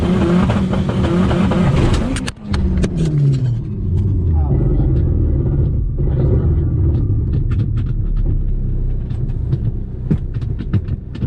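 A Mitsubishi Galant VR-4 with a DSS driveshaft, launching hard near full boost: a loud, close engine roar with a brief break near two seconds, then rising revs. A voice cries out under the noise.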